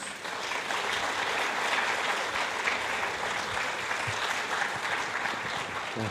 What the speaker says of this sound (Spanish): Invitémosle con fuertes aplausos.